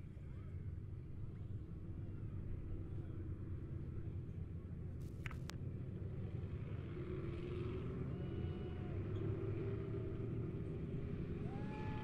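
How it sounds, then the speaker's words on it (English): Race cars rumble onto the dirt track at Monett Raceway, a steady, loud low engine roar that holds throughout with no clear pauses, blended with broad crowd and wind noise. "We got cars coming out."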